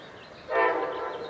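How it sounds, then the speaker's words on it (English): An Amtrak Coast Starlight passenger train led by an ALC 42 locomotive sounds its horn, a loud sustained blast that starts abruptly and holds nearby. "here comes the Coast Starlight with an ALC 42 leading"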